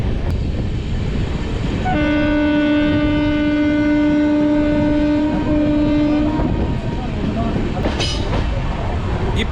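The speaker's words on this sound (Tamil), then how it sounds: "இப்போ பார்த்தீங்கன்னா ட்ரெயின் ஆவரேஜ் ஸ்பீடில் தாங்க போயிட்டுருக்கு." The Chennai–Mangalore Super Fast express, running at average speed past Katpadi, rolls on with a steady rumble of wheels on rails. A long, loud, sustained horn blast sounds over it for several seconds, then the running noise continues.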